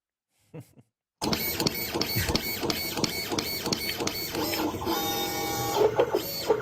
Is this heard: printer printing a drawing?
yes